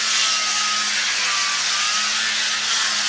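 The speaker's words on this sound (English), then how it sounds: "I almost got this whole wall sanded off." A heavy grinder used as a sander strips old paint from a swimming pool wall, a steady, loud abrasive roar with a faint tonal whine that holds continuously.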